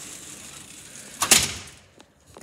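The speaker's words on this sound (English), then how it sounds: "Oh, my front door's already open." A front door swings open with a sudden close clatter and rattle in the middle, then fades to quiet with a faint knock near the end.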